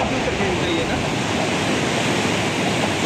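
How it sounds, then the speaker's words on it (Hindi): The Lohit river rushing beneath Kundan bridge in the Dong Valley, a loud, constant roar of fast water filling the scene without a break. "नदी की ना बहुत तेज आवाज आ रही है।"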